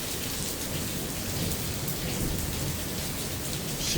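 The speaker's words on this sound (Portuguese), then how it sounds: "Amanheceu chovendo, choveu à noite." Steady rain falling in Guararapes on a December morning after a night of rain, a dense even hiss of drops close by with no pauses, alone without voices.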